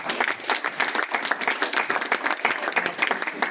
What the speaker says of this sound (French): Est-ce qu'on peut acclamer cela, chers amis?